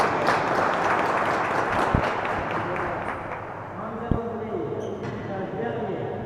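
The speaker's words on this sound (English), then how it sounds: "there's a slow clap now for Leia" Spectators applaud in a crowd at a real tennis (jeu de paume) final of the Open de France, with steady clapping mixed with crowd murmur and voices, plus a couple of sharp ball or impact thuds.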